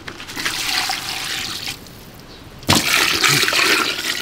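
Water pours and splashes into a pot for duck blood soup in a home kitchen, a loud rushing gush that eases briefly, then surges back stronger, with no talking.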